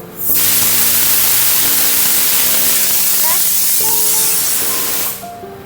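A pressure cooker cooking mutton releases a loud, close, continuous hiss of escaping steam, with the whistle's rising tones sounding over it before the hiss cuts off abruptly.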